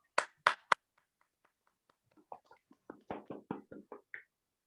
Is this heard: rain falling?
no